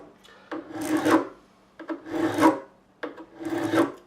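A file rasps across the frets of a Korean-made BC Rich Mockingbird guitar during fret levelling: three close, steady back-and-forth strokes, each a dry scraping hiss with short pauses between.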